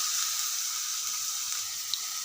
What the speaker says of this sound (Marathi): तर अशा पद्धतीनं कांदा आपल्याला कट करून भाजून घ्यायचा आहे